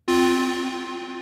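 Synplant 2 plugin resynthesis of a Deepmind analog synth note: one bright, sustained harmonic tone with a sharp attack, slowly decaying, heard alone.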